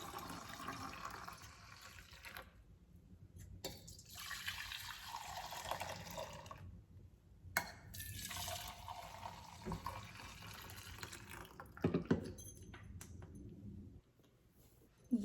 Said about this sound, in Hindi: ये मैं भिगो रही हूँ अपना शाम के व्रत का खाना।